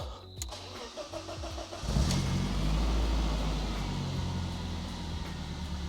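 An old BMW car engine cranks briefly, catches, and settles into a loud, steady running idle close by, with a few clicks just before it starts.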